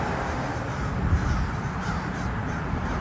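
Crows cawing outdoors on a cold, very windy day, several calls overlapping at moderate distance against a steady rush of wind noise.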